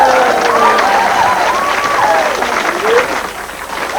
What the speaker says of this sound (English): What about a nice round of applause for our contestants